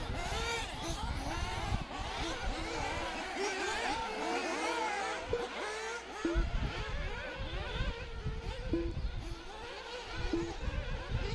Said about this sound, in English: You can hear these guys revving them way out over the big double